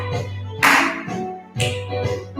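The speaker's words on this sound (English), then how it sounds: "Clap, snap, clap, snap." Two sharp hand claps about a second apart during a senior fitness routine, each bright and close against a steady background of music.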